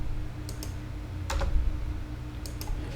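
Computer keyboard keys tapped in a few short bursts of clicks, close but fairly quiet over a low background hum.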